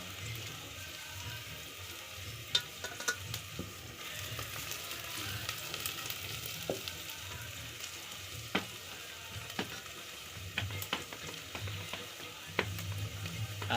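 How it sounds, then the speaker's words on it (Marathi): Onions sizzle in hot oil for a tempering at the start of a village chicken curry, a faint, steady frying hiss with occasional stirring clicks and taps throughout. "कांद्याची फोडणी वगैरे झाली."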